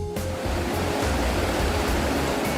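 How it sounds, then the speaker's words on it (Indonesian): Water rushes steadily in a river in the Bukit Barisan Selatan forest, a loud, continuous broadband roar with no pauses and no voices. "Gemercik air dari ratusan sungai mengalir membawa berkah kehidupan bagi seluruh ekosistem"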